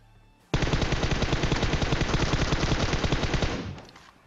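A single sustained burst of SCAR-L assault rifle fire in PUBG Mobile, loud and close, with rapid evenly spaced shots lasting about three seconds before fading.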